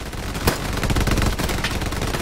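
Sustained automatic gunfire in a hardcore first-person shooter game, dense rapid bursts with a sharp louder shot near the start, loud and continuous throughout with no talking.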